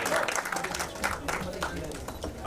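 Loud applause from the crowd at a song launch event, a dense wash of clapping that runs throughout the short stretch, with voices mixed in.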